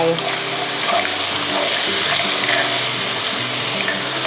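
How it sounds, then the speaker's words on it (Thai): Striped clams stir-fried in a hot pan for spaghetti with roasted chili paste, giving a loud, steady, dense sizzle with faint scraping of stirring throughout. "เราก็จะต้องผัดให้หอยลายสุกก่อนนะคะ"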